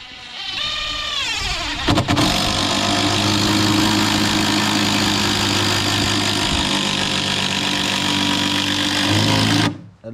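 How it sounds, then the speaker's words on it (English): A loud, steady mechanical whir of an impact driver driving a bolt through timber for a pergola, running continuously for several seconds, starting abruptly and cutting off at the end, no voices. "it's an impact driver."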